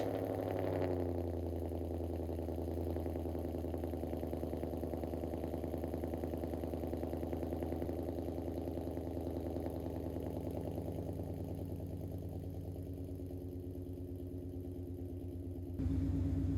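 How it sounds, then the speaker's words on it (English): A Ford Mustang idles steadily after its large exhaust leak has been repaired, a deep, even rumble running on and on up close before cutting off near the end. "Let's fire this bad boy up and see what it sounds like with no giant exhaust leak."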